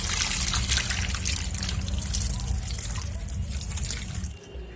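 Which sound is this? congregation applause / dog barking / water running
water running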